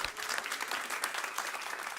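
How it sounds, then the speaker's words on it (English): Dense, steady audience applause fills a room at a WNYC-hosted event, many hands clapping in an even wash for about two seconds with no voices on top. "They deserve a huge round of applause, please."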